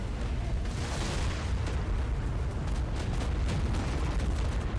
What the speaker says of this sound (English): Maybe my fire breath, actually.